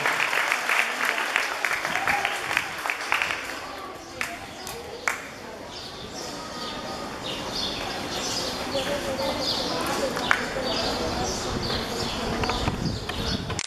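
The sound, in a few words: applause for the children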